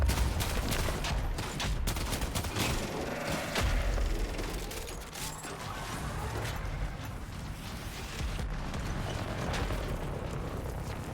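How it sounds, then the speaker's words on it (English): Dense rapid gunfire and bullet impacts in Warframe, a continuous loud barrage of shots with booming bursts and mechanical clatter filling the whole stretch, no voices. "That's bullets, what the fuck?"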